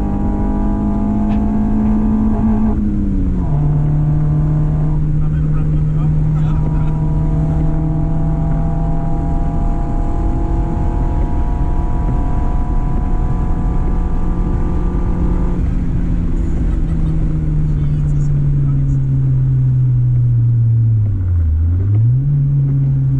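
A Mini on a track day at Castle Combe circuit, engine droning loud and steady as it accelerates down the straight at close to 100 mph, the pitch holding high before dropping sharply near the end as it slows for Quarry corner.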